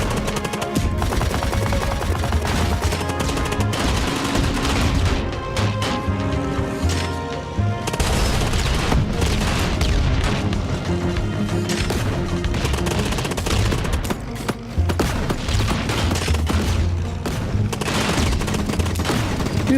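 Rapid, dense gunfire from a weapon in the video game Steambirds Alliance, loud and continuous for nearly twenty seconds, thick with repeated booming shots and little letup.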